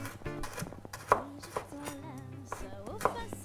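Raw Brussels sprouts are cut in half with a knife, giving a few firm, close chopping thuds on a board, set against tonal background sounds.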